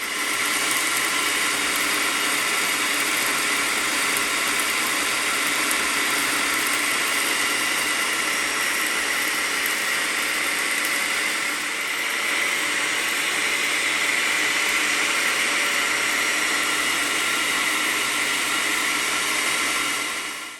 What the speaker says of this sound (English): I am about to put them in my blender and grind them up to be flour